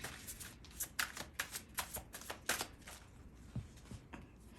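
Tarot cards shuffled by hand in a rapid, rhythmic riffling flutter, with soft slaps as cards spill and fly loose, close and moderately loud.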